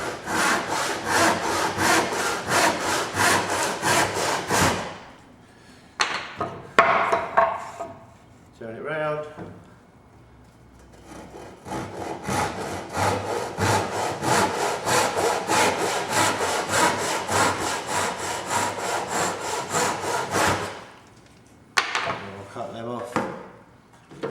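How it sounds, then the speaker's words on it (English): Hand saw cutting a stub mortise and tenon joint in wood on a workbench, with steady back-and-forth strokes in long runs broken by short pauses and a few brief knocks, close and fairly loud. "I like to use my arm running across my torso, that's acting like a piston"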